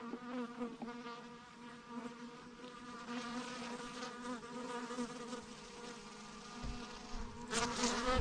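Honeybees buzzing around their hive outdoors, a steady close droning hum of many wings with individual bees flying near and passing by, continuous throughout with no talking.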